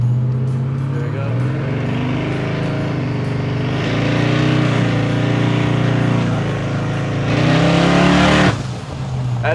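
A twin-turbo Chevy C10 truck accelerates hard, its engine droning loud and close and climbing in pitch over several seconds before cutting off abruptly, with people talking faintly beneath.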